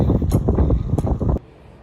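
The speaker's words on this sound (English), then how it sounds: "Beautiful day out. It's a little bit windy." Gusty wind buffets the microphone outdoors on a breezy day at an RV renovation site, a loud broadband rumble with fluttering bursts for over a second before dropping abruptly to a quiet background.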